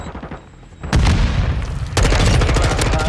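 Loud gunfire in Call of Duty Modern Warfare 2, with booming bursts starting about a second in and a second heavier volley following, close and punchy.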